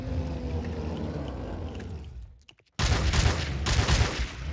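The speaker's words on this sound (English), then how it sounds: "First thing, there's Teddy bear I've got to shoot." Rapid bursts of video game gunfire in World at War custom zombies, a dense rattling stream that cuts out briefly to near silence, followed by a few sharp shots and then another loud sustained volley, close and without talking.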